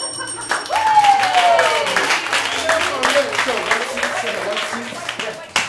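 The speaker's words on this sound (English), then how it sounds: "Judging by that applause, I have very, very nice applause ears." Audience applause at a small comedy improv showcase swells quickly and carries for several seconds in a steady wash of clapping, with a performer's voice speaking over it.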